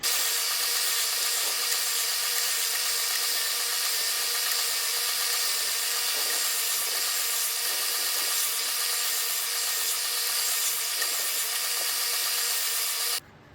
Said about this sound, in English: I'm just gonna try and sand this a little smooth and sand the top a little smooth